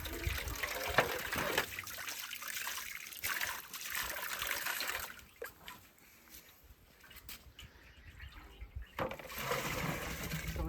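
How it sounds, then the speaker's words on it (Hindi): Water poured onto wheat seeds set to soak in a container, a steady trickling and splashing flow that rises, thins and surges again over several seconds, close by, with no talk. "तो हमने पानी डाल दिया है"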